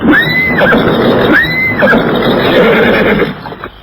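A horse neighs loudly and close in a radio drama sound effect, giving two sharp whinnies over a busy background, and the sound tapers off at the end.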